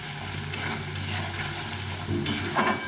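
A fish curry sizzles in a pan with a splash of water and little oil while a spoon stirs it in brief scraping bursts over a steady close frying hiss.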